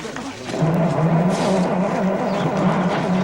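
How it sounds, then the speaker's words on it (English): A car engine cranks over and over with a rhythmic churning but never catches, while people talk nearby. "it sounds to me as if the engine won't start"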